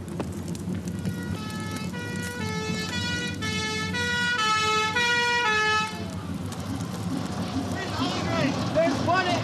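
Fire engine siren at a 1980s aircraft arson scene, its repeating wailing tones growing louder and nearer over a steady low rumble, with people talking underneath.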